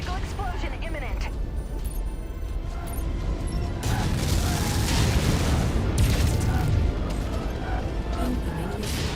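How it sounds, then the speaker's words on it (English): Explosions and mechanical combat in the MechWarrior 5: Mercenaries video game, heavy booming rumble that swells midway, with a voice talking over it. "Critical explosion imminent."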